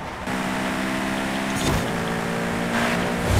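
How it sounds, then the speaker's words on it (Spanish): A McLaren car approaching in Forza Horizon 5, its engine drone steady and loud, swelling briefly around the middle and again at the end, with no talk. "se acerca un McLaren"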